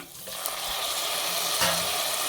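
Onion and tomato sautéing in a pan with broad, steady sizzling and faint stirring scrapes throughout, moderately quiet and with no voice over it.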